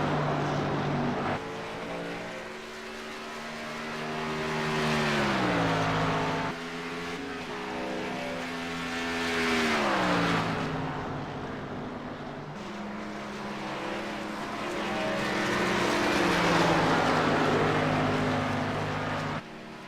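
An Xfinity series race car on its warm-up lap at Texas, the engine note rising and falling as it sweeps past in repeated passes, heard from a distance with no talk.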